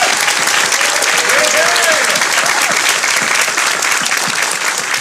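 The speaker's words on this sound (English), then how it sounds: "let's go ahead and give a round of applause for everyone for participating" A crowd at a coding competition applauds all the participants with loud, sustained, dense clapping and a few cheers, while a voice faintly talks underneath.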